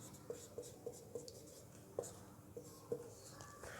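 Marker or pen strokes tapping and scratching on a board while a math expression is written out, short clustered taps at a steady pace, close and quiet, no voice.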